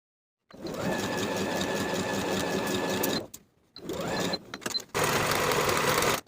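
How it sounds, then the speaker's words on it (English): An electric sewing machine runs a pants seam in loud, steady bursts: a long run, a short pause, another brief stretch with a stutter, then a final fast run close by. "Sew with a 3/8 inch seam allowance and finish the raw edges"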